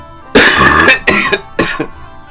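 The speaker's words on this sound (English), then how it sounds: "I'm just gonna keep coughing" A person coughs in three harsh bursts, the first a long rattling fit, followed by two shorter coughs, loud and close with no talking.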